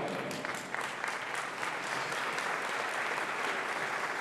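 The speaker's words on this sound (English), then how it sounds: "You don't have to clap yet." A conference audience at a SingularityU summit in Italy breaks into steady applause, a soft, even wash of many hands clapping that sounds somewhat distant and continues unbroken.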